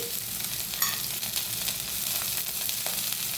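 Onion and curry leaves frying in hot oil for egg curry, giving a soft, continuous sizzle with light stirring scrapes close by and no talking.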